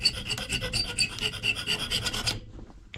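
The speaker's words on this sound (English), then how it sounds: "So just slowly filing away here." A metal file rasps against a handle that is being fitted to a hand-forged letter opener, in quick, close, repeated strokes for about two and a half seconds before it stops.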